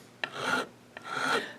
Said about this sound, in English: I actually like to let the file rest on the wood, which is way harder than the plastic binding